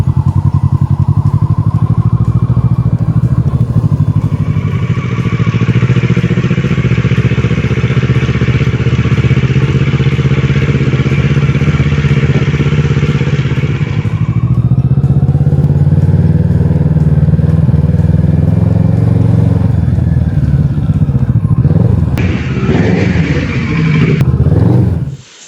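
A 2012 Kawasaki ER6N motorcycle on a test ride through a neighbourhood with speed bumps, its engine droning loud and close, rising and falling as the rider accelerates and eases off, ending with a sharp rev and abrupt cutoff.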